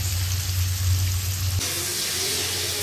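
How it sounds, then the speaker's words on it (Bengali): Paneer pieces dropped into hot oil in a wok set a steady, fairly loud broadband sizzle going, continuing with a sharper, brighter hiss after a slight shift partway through, with a low hum underneath and no talking. "কড়াই বসিয়ে দিয়েছি, গরম হয়ে গেছে, তেল দিয়ে দিলাম। এই চলে গেল পনির, চলে গেল পনির।"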